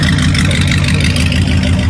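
A car engine idles close by, a loud, steady low rumble with an even throbbing pulse and no change in pitch.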